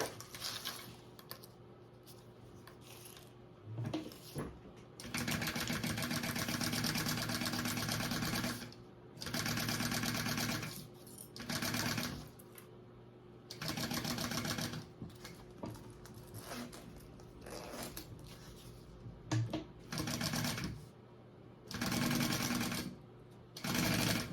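A sewing machine bastes an exterior fabric piece to a zipper, running in bursts of several seconds with short pauses between them, a close, steady mechanical whir over a faint hum.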